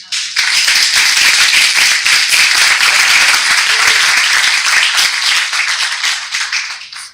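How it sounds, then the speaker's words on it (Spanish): An audience at a political conference applauds a guest speaker, with loud sustained clapping filling the room that starts abruptly, holds steady and tapers off at the close. "Entonces, un aplauso para María"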